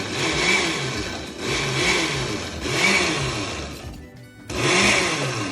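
A kitchen blender pulses pine nuts, oil and garlic for pesto in four loud, short bursts, each rising and whirring briefly before a pause, with a near-silent gap before the last burst.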